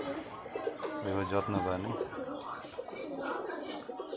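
Giribaz high-flyer pigeons in a Rajshahi loft give a low, soft coo lasting about a second, heard under people talking nearby.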